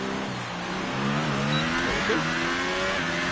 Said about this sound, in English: the engine note doesn't sound it anyway. It might be the Renault.